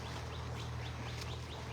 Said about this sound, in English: Because they're blackbirds. And they make a lot of noise.